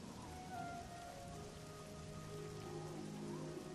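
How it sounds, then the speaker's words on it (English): Steady, dense rain pours down in the Oblivion video game world, a constant hiss and patter of drops on surfaces filling the whole stretch without any voices. "But either way, it's raining,"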